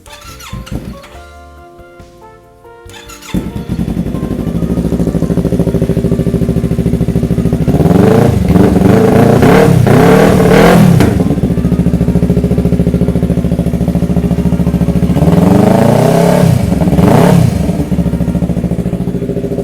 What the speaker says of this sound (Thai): เครื่องยนต์นะครับดีมากไม่มีดังเลยนะครับ